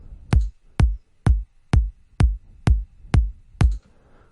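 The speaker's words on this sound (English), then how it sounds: "So if we took our kick and we played it" Unequalized kick drum sample in FL Studio, eight punchy, deep thumps in an even rhythm, loud and close, with nothing else around them.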